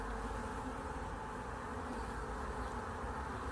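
Honeybees swarm around a nuc hive in a yard, giving a steady, close, continuous buzzing drone that stays even throughout with no talking.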